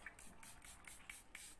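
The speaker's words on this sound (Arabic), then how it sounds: "انت بترشيه على بشرتك اهو بس" Homemade botox face mist sprayed from a plastic spray bottle, a rapid series of about six short, airy hissing spritzes in an even rhythm, close and fairly quiet with no talk over them.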